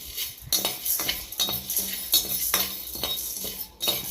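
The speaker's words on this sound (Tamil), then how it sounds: "கிராம்பு, ஏலக்காய், இதெல்லாம் நல்லா வறுத்துக்கிடலாம்." Cloves and cardamom dry-roasting in a pan for Chettinad chicken gravy, stirred with a spoon in steady scraping strokes about twice a second, close and clear with no talking.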